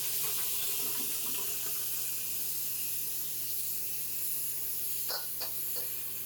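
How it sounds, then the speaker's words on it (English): Cold tap water runs steadily over pork neck bones in a kitchen sink, a continuous close hiss and splash with faint clinks, no talking. "And then we're gonna rinse it off with some cold water."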